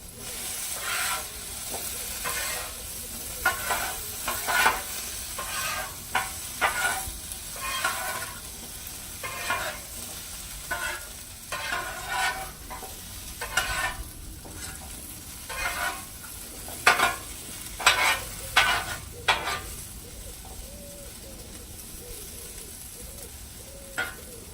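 Potatoes sizzle and fry on a Blackstone griddle, a steady hiss broken by repeated sharp scraping and stirring strokes of a spatula, close and fairly loud with no talking.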